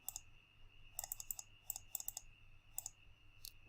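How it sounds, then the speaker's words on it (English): Calculator buttons clicked in quick, irregular bursts, roughly a dozen sharp taps, close and crisp, with short pauses between groups and no talking. "Lots of clicking."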